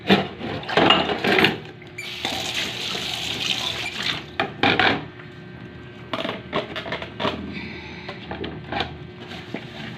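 Tap water runs while dishes are washed up, in bursts of splashing and gushing that start and stop, with clatter between flows and no clear talking.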